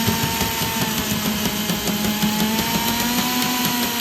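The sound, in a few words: drill-powered wire cutting tool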